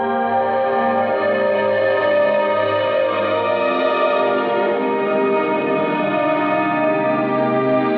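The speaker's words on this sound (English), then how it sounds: "Echoey caverns." Improvised psych rock guitar through an echo effect, giving a steady, washy ambient wall of repeating, reverberant tones that sustains evenly, with no talk over it.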